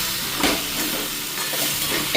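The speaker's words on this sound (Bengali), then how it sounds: "তো জিরে ফোড়ন দিয়ে এই যে আলু দিয়ে দিয়েছি" Potatoes fry with a cumin tempering, producing a loud, steady sizzle with hissing steam and faint stirring scrapes, close and continuous with no talk.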